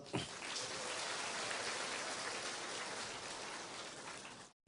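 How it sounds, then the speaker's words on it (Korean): Steady rain falling after a long dry spell, a dense even hiss of drops on surfaces that holds at constant loudness throughout, with no voices. "계속 가물다가 이 단비가 내리는 것 같습니다."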